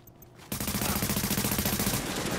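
Sustained automatic gunfire in Tom Clancy's The Division, Dark Zone on Xbox One, starting abruptly and rattling on in a steady rapid rhythm of shots, loud and close with no talk over it.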